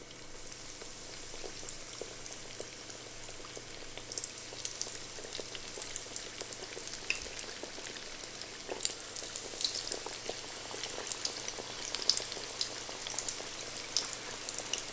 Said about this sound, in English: We are ready to deep fry.